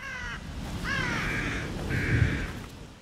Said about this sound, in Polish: Tam jest pełno kruków, widzę.